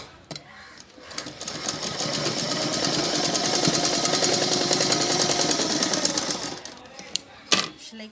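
A sewing machine stitches fabric doll pieces together, a fast, even mechanical chatter that runs for several seconds and then stops, followed by a few soft handling clicks.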